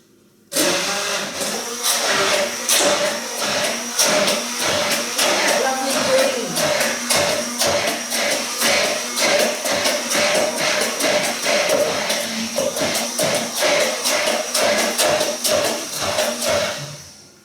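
A kitchen blender whirs steadily through a batch of lemony green salad dressing, a loud continuous motor drone with rapid rhythmic churning that starts abruptly and holds for the whole stretch before easing off.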